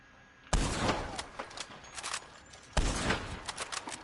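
Gunfire in the Western video game Red Dead Online comes as two loud, close volleys of rapid shots, each burst starting sharply and then trailing off into smaller cracks.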